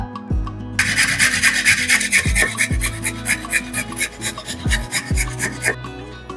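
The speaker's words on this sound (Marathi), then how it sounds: "आता आपण गाजर किसूया" A carrot is rubbed over a hand grater in brisk, repeated rasping strokes, close and loud, with a few dull knocks underneath as the grater shifts; no voices.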